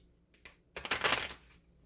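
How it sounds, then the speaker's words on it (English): Tarot cards being shuffled by hand in one brief, dense riffling burst after a few light taps, close and fairly quiet, with no talking. "let me go ahead and shuffle one more time"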